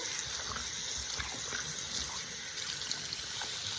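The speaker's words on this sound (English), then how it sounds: "now I'm just gonna warm the water up." Water runs steadily from a faucet into a sink, a continuous hissing gush heard close up with no one talking.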